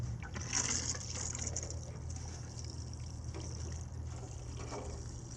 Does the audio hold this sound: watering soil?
yes